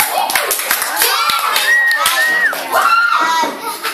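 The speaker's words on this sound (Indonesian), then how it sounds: "untuk itu kita tepuk tangan dong untuk Bapak Umar" An audience of schoolchildren at a class drama performance claps for Bapak Umar, a quick, lively burst of applause with children's voices and chatter mixed in, close and loud.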